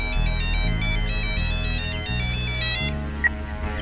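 A phone ringtone plays a looping electronic melody over a low, steady backing for about three seconds, then stops abruptly, leaving faint room sound and a single small click. The scene is from a Hindi-dubbed thriller film.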